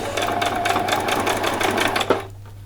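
A sewing machine stitches a Christmas party dress with a fast, even whirring rhythm up close, then stops abruptly near the end.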